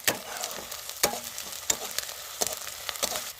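Ginger garlic paste fries in a pan with a steady crackling sizzle, broken by several sharp spatula scrapes and taps at uneven intervals, close and moderately loud.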